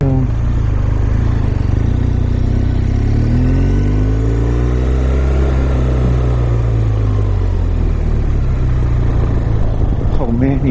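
A BMW R1200RS motorcycle accelerates with a deep, rumbling engine note that climbs and falls in pitch, loud and close against constant wind noise, with a rider talking over it.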